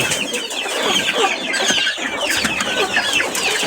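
Chickens cluck continuously nearby, a busy overlapping chorus of clucks and squawks from several birds.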